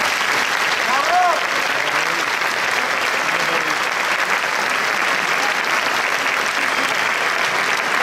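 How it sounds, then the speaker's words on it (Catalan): Full audience applause at an outdoor summer concert with a big band, a dense continuous wash of clapping at constant loudness, with a brief cheer or whistle near the start. "Crec que és un gran aplaudiment per a vosaltres"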